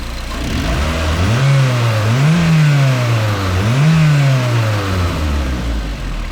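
A Mazda Miata NC engine revs repeatedly on its first start after a build, each rise and fall of the throttle swelling loud and close over a steady running drone.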